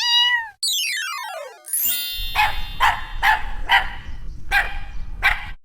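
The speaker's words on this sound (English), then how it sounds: "Dog," Dog barking in a quick series of about six sharp, evenly spaced barks after a short chime and rising sweep, close and clear with no talking.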